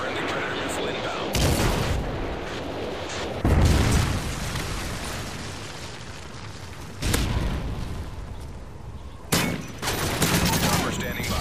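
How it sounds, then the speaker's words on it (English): A Predator missile strike explodes in Modern Warfare 3 amid heavy gunfire, with several loud booming blasts at intervals over a continuous crackle of shooting. "Friendly Predator missile inbound."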